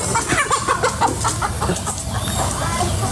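Chickens clucking in a busy, noisy yard, with steady clucks and chatter throughout the short stretch.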